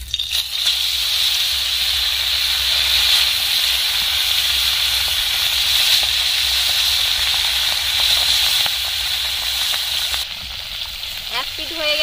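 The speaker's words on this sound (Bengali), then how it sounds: "কড়াইতে তেল দিয়ে এবার আমি ভেজে নেব" Koi fish rubbed with salt and turmeric fry in hot oil in a wok, making a loud, steady, hissing sizzle that runs unbroken throughout, with a slight shift near the end.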